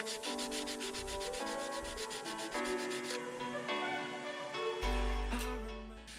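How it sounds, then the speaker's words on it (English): Bondo filler on a Toyota Land Cruiser BJ40 is rubbed down with 180 grit sandpaper in close, steady scratchy strokes. Music plays over it throughout, with no talking. "I have sandpapered these bondo heels down with some 180 grit paper"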